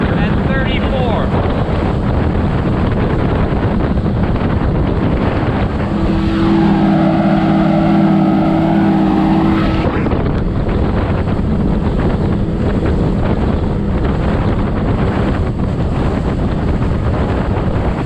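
A Tohatsu 30hp outboard motor runs flat out at its rev limiter on a Gheenoe LT25 boat, a loud sustained roar mixed with heavy wind buffeting and water noise. A brief tonal whine rises midway.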